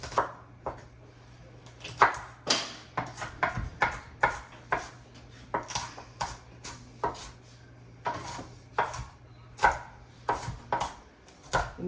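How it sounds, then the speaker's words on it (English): A knife chops vegetables on a cutting board while cooking arroz con pollo, with a steady series of sharp, close taps, some in quick bursts and some single, with no talking. "I'll probably go back over and chop them a little bit smaller."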